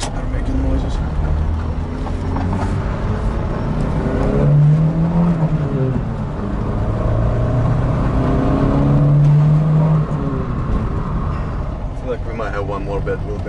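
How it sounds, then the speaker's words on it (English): Car on the road fitted with the cheapest tires, loud steady engine and road drone with tools rattling in the back, while a person talks over it. "Got a bunch of tools in the back, so they're making noises."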